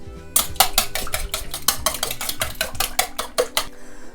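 A metal whisk beats four or five eggs in a bowl with rapid, evenly spaced clinking strokes, loud and close, about a dozen quick taps in a row before stopping.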